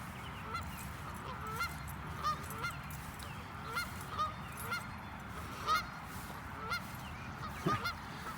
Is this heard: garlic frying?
no